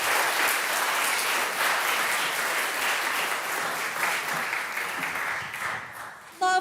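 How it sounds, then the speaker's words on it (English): A concert audience claps for choir students in a sustained round of applause, full and even throughout, fading slightly near the end as a brief voice cuts in. "Can we give one more round of applause for all of their"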